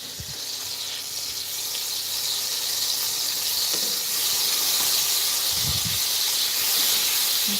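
Butter sizzles and hisses steadily in a hot pan for a potato pancake, a continuous bright fizz with no talking, joined by a couple of brief low clunks.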